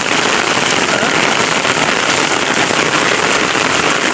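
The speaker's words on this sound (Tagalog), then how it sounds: "ang lakas ng ulan rinig nyo" Heavy night rain pours down on the surface around an umbrella, a loud, dense, unbroken hiss that fills everything with no letup.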